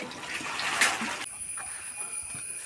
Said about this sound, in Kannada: ಬಕೆಟ್ಲಿ ಹಿಡ್ದು ಬಲ್ಲವ